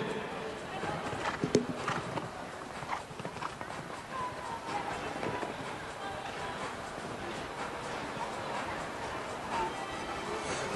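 A show-jumping horse gallops at an indoor arena event in Kraków, its hooves thudding in a fast, continuous rhythm beneath crowd ambience and an announcer's voice.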